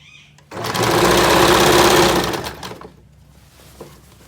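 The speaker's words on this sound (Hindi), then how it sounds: "इसमें इसी तरह से सिलाई लगा लेनी है।" A sewing machine stitching the back section of a trouser runs loud and steady for about two seconds with a rapid whirring hum, then slows and stops, leaving faint handling noise.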